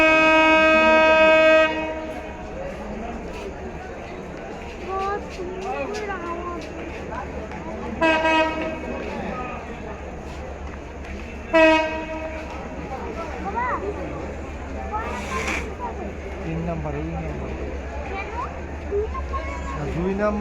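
Lalmoni Express train pulling into Joydebpur station, with several loud horn blasts sounding near over a steady rumble of rolling coaches, while voices talk over the running train.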